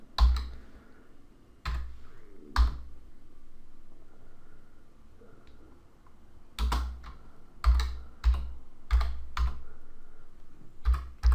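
Typing on a computer keyboard while building a website page, scattered clusters of crisp key clicks with pauses between bursts, close up over faint room hiss, no speech.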